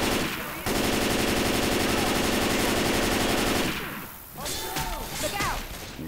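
Sustained automatic gunfire from a Left 4 Dead 2 versus match, a dense rapid rattle for about three seconds, then fading into scattered shots and in-game noise with voices over it.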